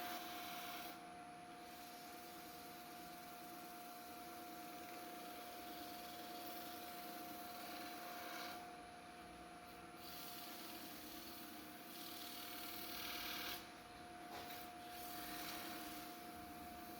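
Wax stick pressed against a wooden candlestick spinning on a lathe at speed, giving a steady rubbing, hissing friction over the motor hum, with a few louder scuffing bursts as the wax is buffed on.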